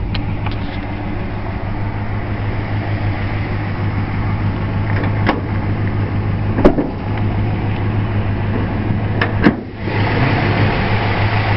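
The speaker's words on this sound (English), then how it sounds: "There's your nice, quiet 273 V8." A 1966 Plymouth Barracuda's 273 V8 idles steadily and close by, a smooth, quiet low rumble with an even throb and a few faint clicks.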